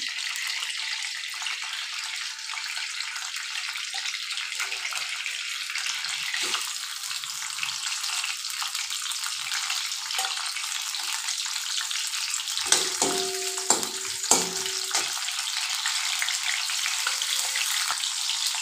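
Spices for a tempering crackle and sizzle steadily in hot oil for dal rasam, with a few sharper pops near the end and no talking.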